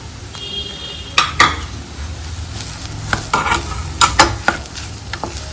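A spoon stirs and scrapes potato stuffing with grated paneer in a sizzling pan for bread-potato patties. Several sharp, close knocks against the pan rise over a steady frying hiss, with no talking.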